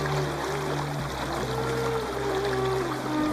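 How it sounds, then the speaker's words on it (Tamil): A waterfall rushes steadily in the background, a constant broadband hiss of falling water with sustained melodic music layered over it. "பின்னால் அந்த அருவி சத்தம் காதுக்கு கேட்க இனிமையாக இருக்கு"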